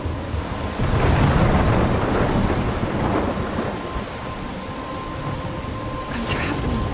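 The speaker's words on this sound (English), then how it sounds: "I'm trapped in a storm?" A thunderstorm with heavy rain and rolling thunder roars in Life is Strange Remastered, a dense, loud wash of downpour with deep rumbles swelling and fading across the scene.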